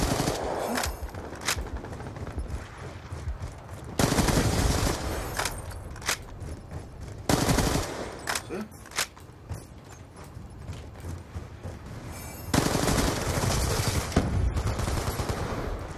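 Rapid bursts of automatic gunfire from shooting in the video game Black Ops 2, loud and close, arriving in several long sustained volleys broken by brief pauses, with mechanical clicks between them.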